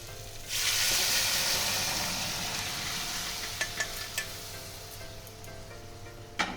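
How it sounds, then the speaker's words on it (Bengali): Boiled lentils poured into a pan of papaya sautéed with spices and ginger paste for a Bengali bitter dal, a loud rushing sizzle that slowly fades into a softer simmer with a few spoon clicks near the end. "এবার আমি এর মধ্যে সিদ্ধ করে রাখা ডালটা ঢেলে দিচ্ছি।"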